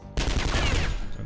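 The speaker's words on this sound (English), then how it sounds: "And then we'll shoot this guy." Gunfire in the turn-based game Skyshine's Bedlam: a loud burst of shots starts suddenly after a brief quiet and rattles on with dense, rapid cracks before trailing off.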